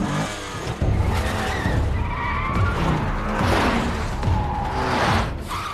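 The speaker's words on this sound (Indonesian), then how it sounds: "Kyung Ho langsung tancap gas." Tires squeal and skid loudly as a car accelerates hard and speeds away, the engine roaring under a sustained screech of rubber.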